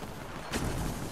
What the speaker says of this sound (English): Someone's back here shooting.